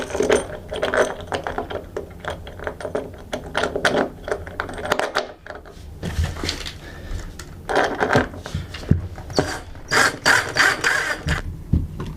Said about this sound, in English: Now it's just a matter of driving these fasteners.